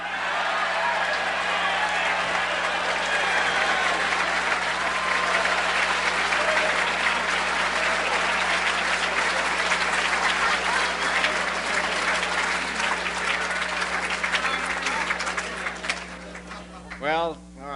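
A standing dinner audience at an award banquet bursts into sustained, dense applause that fills the room for most of the clip, fading near the end as a voice begins to speak.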